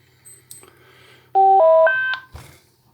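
A Retevis RT3S handheld radio gives a quick ascending series of clear electronic beep tones as it is switched off and back on, loud and close, followed by a brief click.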